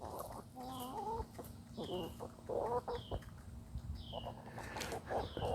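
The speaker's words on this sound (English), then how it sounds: "We have, at this time, we have a total of 8 chickens, I think 4 different varieties." Several backyard chickens in an urban yard cluck and murmur close by, with repeated short calls and a few squawks layered over soft ambient noise.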